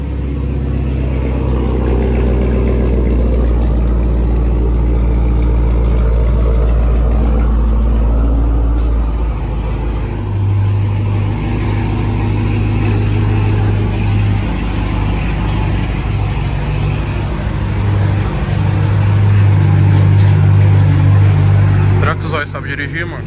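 Chevrolet Camaro engine running loud and close, with a deep rumble that swells and revs unevenly while people talk over it.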